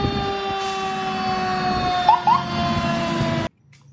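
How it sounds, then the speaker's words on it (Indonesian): A toy fire truck's electronic siren wails steadily and fairly loud, a tinny wavering tone over mechanical whirring, then cuts off abruptly near the end. "Truk pemadam kebakaran buat memadamkan api."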